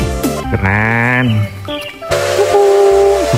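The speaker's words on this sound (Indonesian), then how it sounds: "Wow, ini ada kereta api uap teman-teman." A toy steam train gives a loud, tonal whistle with strong harmonics, sounding in a couple of sustained bursts close by, with a voice speaking around it.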